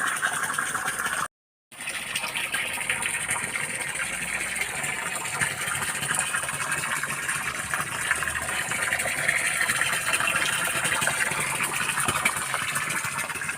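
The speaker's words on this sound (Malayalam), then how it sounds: "ഈ വെള്ളം ഒഴിക്കുന്ന സമയത്ത് തീരെ കുറഞ്ഞു അപ്പോൾ മോട്ടർ ഇട്ടത്" Electric water pump motor running beside a home fish pond, a steady broadband whir with water gushing and splashing throughout, near and continuous apart from a brief dropout early on.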